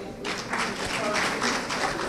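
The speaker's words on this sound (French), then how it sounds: "Vous applaudissez." A crowd claps at an award ceremony in Conakry, a steady wash of applause that swells in after a brief pause and continues behind a speaker's voice.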